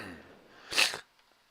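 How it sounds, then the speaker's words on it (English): One sharp, close snort or sniff from someone with a cold, a brief burst of breathy noise that stops abruptly and leaves near silence. "Sorry for my cold and all the sniffles and the coughing and whatnot"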